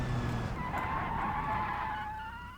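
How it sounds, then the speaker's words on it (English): Car tires screech and skid in the BeamNG.Drive driving game, a sustained squealing tone that wavers over an engine rumble and gradually fades, heard alone without talk. "The skidding sounds for tires has been massively improved."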